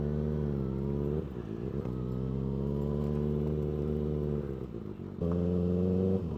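A Kawasaki ZX-6R sport bike engine pulls steadily under riding load, a strong harmonic drone that dips and shifts pitch through throttle changes and gear changes around the one- and five-second marks before surging again.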